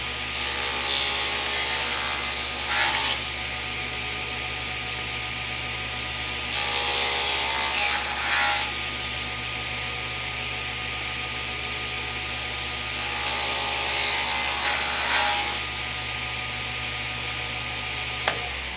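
SawStop table saw with a crosscut sled cutting wood, three separate bright rasping cuts of about two seconds each, evenly spaced over a steady machine hum.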